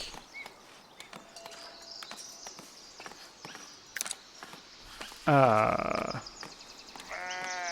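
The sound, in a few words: sheep bleating in the video game Foundation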